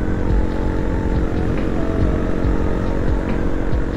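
Riding a motorbike along a busy road where vehicles overtake: a loud, continuous engine drone with a steady rough rumble stays close throughout, with no talk.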